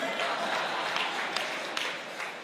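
Applause at a mayor's re-election campaign party, steady crowd clapping through the whole stretch with a few sharper claps standing out, moderately loud and unbroken.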